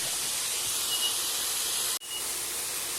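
Butter sizzling in a heated pan, a continuous close hiss broken by a brief dropout near the end before resuming, with no talk.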